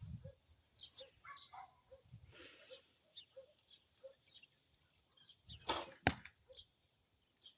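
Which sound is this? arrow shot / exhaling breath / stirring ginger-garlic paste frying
arrow shot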